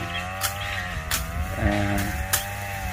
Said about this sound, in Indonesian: Kemudian dari kejauhan terdengar suara mesin potong.